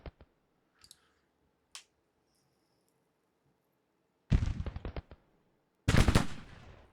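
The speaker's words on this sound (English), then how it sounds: "Taking some kind of battery fire." Artillery battery fire in Grand Tactician: The Civil War, a strategy video game: a few faint scattered pops, then two loud rolling bursts of cannon fire close together near the end.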